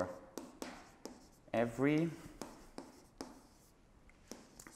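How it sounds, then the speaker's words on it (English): Chalk or pen tapping and scratching out a topology proof in short, regular strokes, with someone briefly speaking partway through. "So let me write this down."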